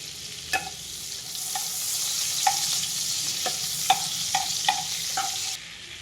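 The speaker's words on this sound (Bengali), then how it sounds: "এই কড়াই আমি দিয়ে দেবো সাদা তেল, দিয়ে দেবো বাটার।" Butter and white oil sizzle steadily in a kadai, a close, even hiss broken by scattered sharp pops and crackles, with no one talking.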